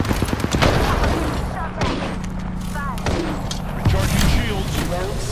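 Rapid bursts of gunfire in a futuristic first-person shooter, with an R-301 rifle in use, crackle loud and dense across the whole stretch, along with booming impacts and shield effects.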